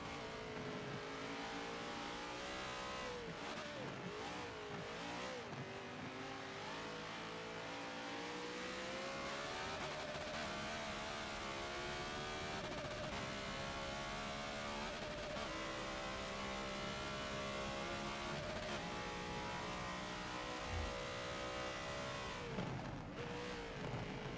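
Corvette and BMW race cars roar through corners with high revving engines rising and falling in pitch, several cars overlapping continuously at steady loudness with no talk.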